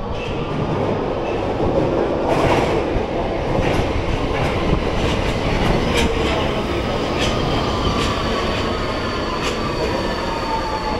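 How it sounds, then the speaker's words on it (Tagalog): A train pulls into an underground metro station in Hungary, its rumble loud and steady throughout, with rising wheel squeal and clacking from the rails. No one speaks. "Ayan na yung train."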